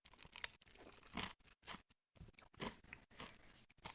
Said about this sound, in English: Sorry, I crunch ice a lot.